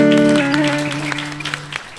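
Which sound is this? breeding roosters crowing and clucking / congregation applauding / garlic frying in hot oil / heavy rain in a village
congregation applauding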